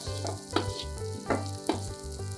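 Vegetables including carrot sizzle and crackle in a hot wok for chili fried rice while a spatula scrapes and tosses them in a few rhythmic strokes.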